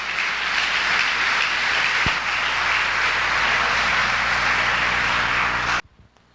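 Church congregation applauding during a Spanish-language sermon, a steady roar of many hands clapping that holds for about six seconds, then cuts off abruptly into near silence.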